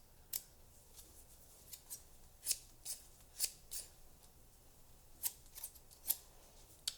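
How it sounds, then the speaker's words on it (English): Crisp metallic snips of scissors cutting hair, a dozen or so irregular close-up cuts with short pauses between them, no talking. "I've got my handy dandy Office Max scissors"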